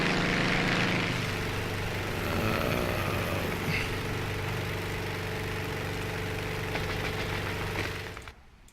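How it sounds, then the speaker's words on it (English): A propeller airplane drones steadily nearby, its engine giving a loud, even hum with a knocking, pulsing texture that holds for several seconds before cutting off abruptly at the end. "It's just a really neat looking airplane."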